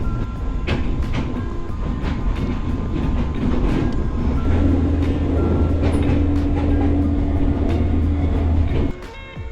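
A train heading to Mt. Fuji, Japan, rolls steadily on rails with a continuous rumble, periodic clacks of the wheels and a low droning hum, close and loud.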